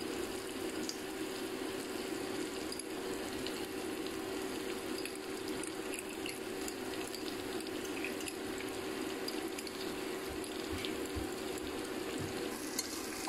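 Masala and salt being stirred into a sizzling pan while making egg biryani, a steady low frying hiss with soft scraping of the spoon running continuously and fairly quietly, with no voices.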